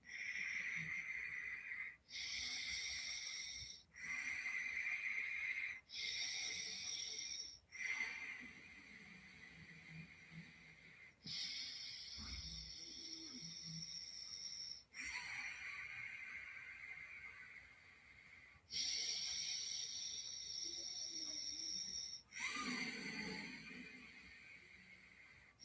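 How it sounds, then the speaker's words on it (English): Bhastrika pranayama breathing, with forceful, rhythmic nasal breaths that carry a snoring-like rasp. Each long, loud breath is separated by a brief pause, repeated about a dozen times and close to the listener. "While you are practicing like this, no, some kind of sound it will come, snoring sound."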